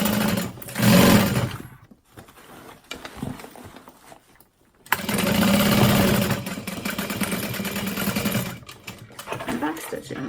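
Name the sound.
sewing machine back stitching a seam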